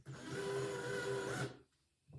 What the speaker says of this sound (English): I'm barely using any speed on this power drill.